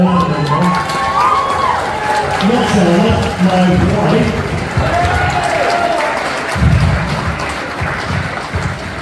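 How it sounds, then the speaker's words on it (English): Wedding guests applaud and cheer as a crowd in a busy reception hall, clapping mixed with shouts and overlapping voices, loud and close, with someone speaking over the noise. "can we have one more round of applause for our good Charlotte tonight?"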